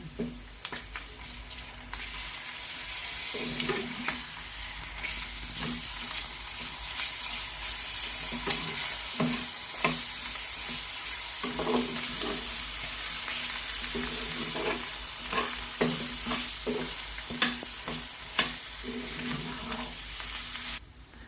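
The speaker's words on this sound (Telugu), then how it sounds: "కొంచెం రొయ్యలు వేగుతున్నాయండి. ఈ స్టేజ్లో నేను అల్లం వెల్లుల్లిపాయ పేస్ట్ వేస్తున్నాను" Prawns frying with ginger garlic paste in a pan, a continuous close sizzle punctuated by repeated stirring scrapes and knocks throughout, without any talk.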